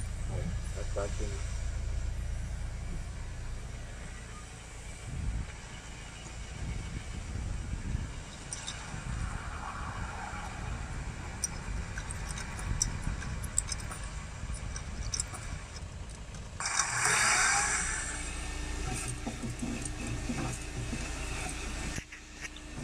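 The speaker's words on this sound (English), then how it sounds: "That vacuum." A vacuum cleaner sucks up dirt inside a Mahindra Roxor cab that sat without a cap for nearly a year, a steady broad rushing hum running throughout with someone talking over it.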